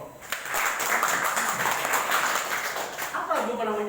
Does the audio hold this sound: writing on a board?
no